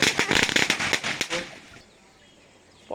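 Firecracker bursting at a hometown Diwali celebration, a rapid loud crackling string of sharp pops for about a second and a half, then fading to quiet.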